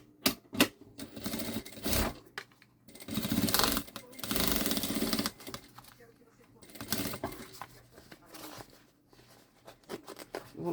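A sewing machine stitches rubberized synthetic fabric for a backpack in short, uneven bursts with pauses between, while fabric is handled and a person talks at times nearby.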